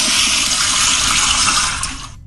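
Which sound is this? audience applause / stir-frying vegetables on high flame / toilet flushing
toilet flushing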